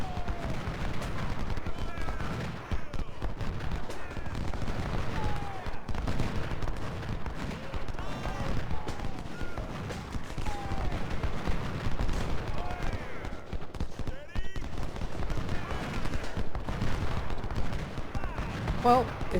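Battlefield gunfire in the video game Ultimate General: Civil War, volleys of rifle and cannon shots crackling and booming continuously under someone talking throughout.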